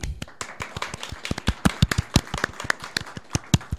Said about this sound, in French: Je vous demande d'accueillir et d'applaudir Benjamin Brio, alias Nota Bene.